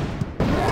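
A cartoonish explosion from the video game Fetch bursts in about halfway through, a single loud, dense blast whose rumble carries to the end over a busy background of game sound.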